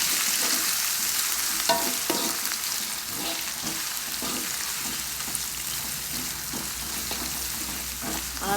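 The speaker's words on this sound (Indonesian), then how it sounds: "Aduk-aduk, ditumis sampai harum." Ground spice paste and shallots sauté in hot oil for Coto Makassar, a constant close sizzle broken by regular scraping stir strokes every second or so, with no one speaking.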